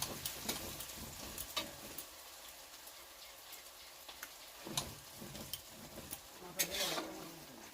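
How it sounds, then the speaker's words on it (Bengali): Onions are sautéed lightly in a pan on a home stove, giving soft, quiet sizzling. Sharp scraping and stirring clicks come at irregular intervals over the sizzle. "তো এবার পেঁয়াজগুলোকে একটু কষাবো হালকা করে হালকা লাল লাল হলেই হয়ে যাবে"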